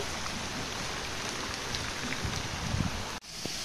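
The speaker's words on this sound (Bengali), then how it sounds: "অনেক জোরে বৃষ্টি হচ্ছে" Heavy rain pours down as a dense, steady hiss that barely varies, with a brief drop just before the end and no voices.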